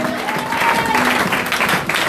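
A church congregation bursts into steady, dense applause mixed with cheering voices, praising God during a French-language worship service; the clapping fills the space evenly and loudly throughout.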